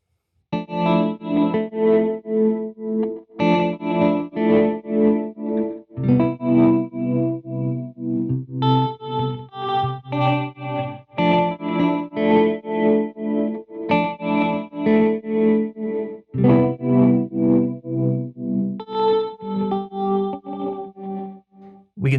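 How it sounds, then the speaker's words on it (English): Electric guitar played through a Champion Leccy The Skitter tremolo reverb pedal, sustained chords pulsing in a steady tremolo rhythm with a reverb wash, playing alone without any talk. "you can use tremolo on both the dry and the reverb signal"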